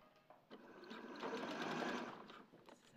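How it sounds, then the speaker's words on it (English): A sewing machine runs in a quick steady burst of stitching, rising and then slowing, close by with no talk. "for speed I'm going to do it with my sewing machine."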